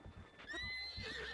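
Horse neighing in a Zelda video game, a loud whinny with rising and falling tones over a steady clip-clop of hooves, close and alone with no talk.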